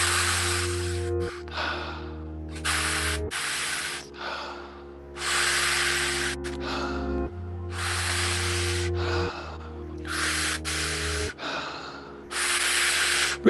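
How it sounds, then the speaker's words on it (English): Close, loud mouth breathing during breathwork: quick, forceful inhales and exhales follow one another in an even rhythm, rasping and airy, with no speech. "Beginning to pick up the pace again, just a little now again. Back to the mouth breath."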